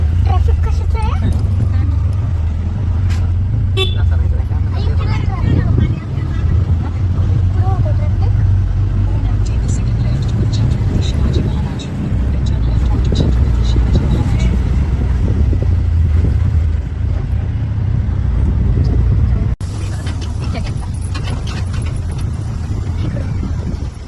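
Steady road traffic in a jam, a continuous loud engine rumble and vehicle noise running throughout, with people talking over it.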